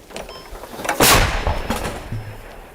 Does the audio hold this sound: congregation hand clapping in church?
no